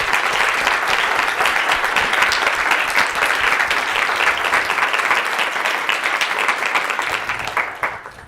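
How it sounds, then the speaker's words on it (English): A large audience at a university anniversary celebration applauds steadily and loudly for several seconds, a dense wash of clapping that fades slightly at the end. "So a round of applause for everyone who contributed to today's meeting."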